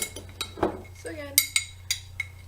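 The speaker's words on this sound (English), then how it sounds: "we're just kind of stirring the chocolate chips just to loosen them up a little bit there." Spoon stirring chocolate chips in a microwave-safe bowl, a series of light clinks and taps against the bowl with a faint voice-like sound in between.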